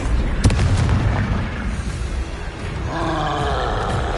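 Confringo fire spell explosion in the video game Hogwarts Legacy on PS4/PS5 during combat; a loud booming blast with a roaring burst at the start, followed by a rumbling tail and game music.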